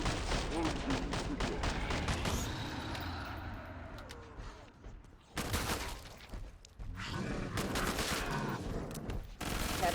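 Gunfire in Killing Floor 2 with a SWAT loadout on the Burning Paris map, dense bursts of rapid shots at close range, pausing midway, then resuming in loud flurries amid game noise.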